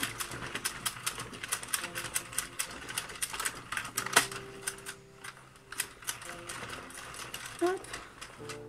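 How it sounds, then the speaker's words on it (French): An Addi Express King Size circular knitting machine is cranked while making a headband, giving a rapid, steady run of sharp mechanical clicks and ratcheting ticks close to the microphone. "Et on continue encore à tourner jusqu'à temps que le projet se décroche tout seul de la machine."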